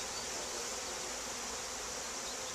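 Honey bees fresh from a package install drone around a hive, a steady, even buzz from many insects in the air, fairly faint and without voices.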